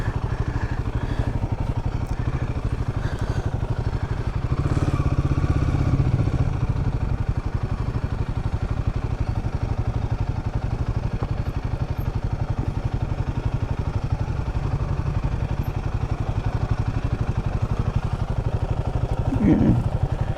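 A scooter engine running nearby, a mid-pitched motor drone with some clatter under general outdoor noise, steady throughout with a brief louder burst near the end.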